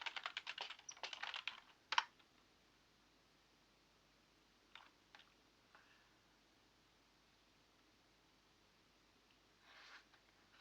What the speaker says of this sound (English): I type an actual command.